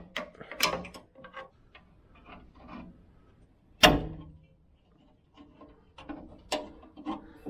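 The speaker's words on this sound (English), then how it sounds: "Pop 3 of them off." Plastic retaining clips are pried off the deck of an abandoned 1970s ride-on mower with a screwdriver, giving a few sharp snaps and clicks among quieter scraping and handling noises, close and isolated.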